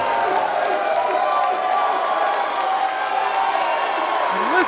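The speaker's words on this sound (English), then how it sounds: "And listen to that crowd." A pro wrestling crowd at a live show makes a steady, dense roar of cheering with scattered clapping and whoops, heard from within the venue at an even level throughout.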